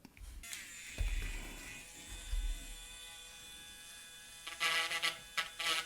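A small rotary tool fitted with a carbide tip whines at a steady, high pitch, close up, with a few brief low thumps and a louder burst of grinding near the end.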